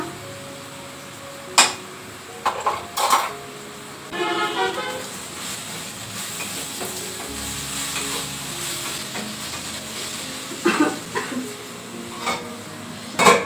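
Onions, green chilli, raw mango, salt and turmeric being stirred in oil in a pan, with soft sizzling, intermittent scraping strokes and clinks, and occasional car horns from outside.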